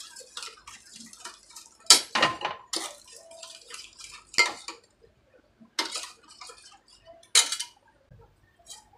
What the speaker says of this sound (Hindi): मैं इसको चम्मच से ही ऐसे फेंट लेती हूँ।